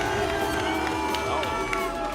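Arena crowd at a Rocket League world championship cheering for SSG, a dense sustained roar with shouts and whistles throughout, loud and close, with voices mixed into the din.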